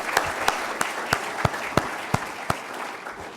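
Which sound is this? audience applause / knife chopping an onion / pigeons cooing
audience applause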